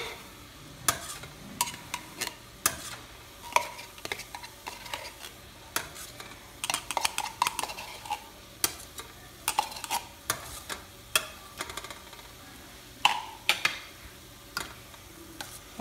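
A utensil stirs tomato paste for pizza sauce in a pan, producing irregular close taps and scrapes over a faint, low sizzle.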